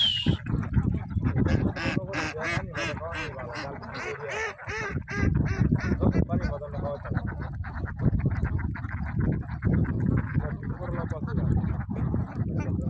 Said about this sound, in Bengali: আরো আছে হাঁস।